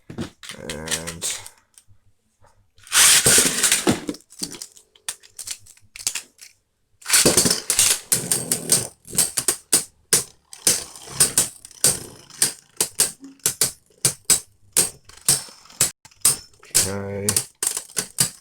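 Beyblade Burst tops, including Mirage Fafnir, clash in a plastic stadium with sharp clattering ticks in irregular bursts, some dense rattling runs between pauses, under occasional talk.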